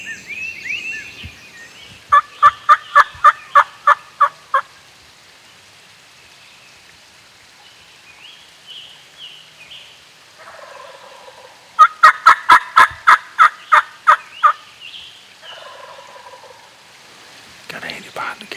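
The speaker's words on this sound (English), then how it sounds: "Got a gobbling turkey, as you can probably hear right up here on top of the hill." Two bursts of rapid, rattling wild turkey gobbles ring out from a distant Tennessee hilltop, separated by quiet stretches with faint birdsong in the background.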